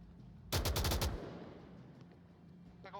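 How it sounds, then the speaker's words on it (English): Gunfire in the VR shooter Onward comes as a rapid burst of roughly eight loud automatic shots, then trails into a faint echoing tail, with a few more distant pops near the end. "We already have a ton of gunfire."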